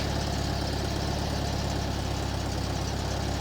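Engine of a 1968 VW Bus idling steadily while its idle mixture is being adjusted, a loud, close, continuous rumble with an even pulsing beat and no voices.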